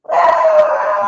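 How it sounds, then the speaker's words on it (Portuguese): Dogs outside a window give one loud, drawn-out, howling bark lasting about a second, close and tonal, with no talk over it. "Os cachorros latem na minha janela."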